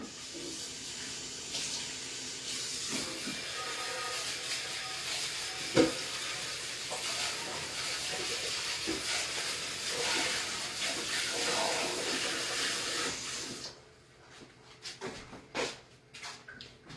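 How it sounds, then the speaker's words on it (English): Water pours steadily from a kitchen tap into a sink as a constant bright hiss and splash, close and loud, then cuts off near the end, leaving a few clinks and handling noises. "Get some water running in."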